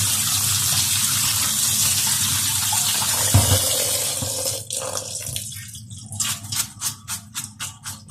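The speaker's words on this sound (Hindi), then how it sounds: "स्पैगेटी हमारी बॉयल हो गया, ऊपर से ठंडा पानी डाल रही हूँ।" Cold water poured from a tap over boiled spaghetti in a strainer, a steady gushing splash that breaks into rhythmic bursts as the pasta is shaken and drained.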